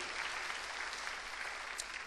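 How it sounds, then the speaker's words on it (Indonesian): Applause from a church congregation fills the space steadily, a dense, distant wash of many hands clapping at moderate volume with no voices over it. "Tepuk tangannya paling meriah buat Allah."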